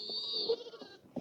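Goat squealing at feeding time, one short, nasal, high bleat held for about half a second and fading, followed by faint rustling and a brief sharp cry at the end.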